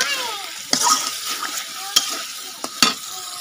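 Fish stir-fried in a pan, an ongoing sizzle with several sharp scraping spatula strokes at irregular intervals, close and fairly loud.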